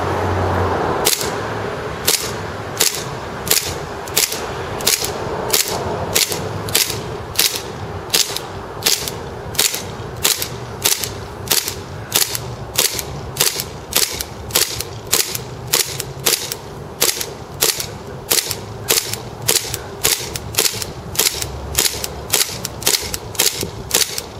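A KWA MKII 1911 gas airsoft pistol fires a long, steady string of sharp, close, loud shots, roughly two per second for the whole stretch, with no talking.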